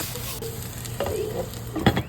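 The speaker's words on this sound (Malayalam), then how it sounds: "എന്നിട്ട് ഇതെല്ലാം കൂടെ നന്നായിട്ട് സോട്ട് ചെയ്യുക." Onions, curry leaves and green chillies fry for a one-pot prawn rice, a low steady sizzle close by, broken by a couple of spatula scrapes and a sharper clatter near the end, without speech.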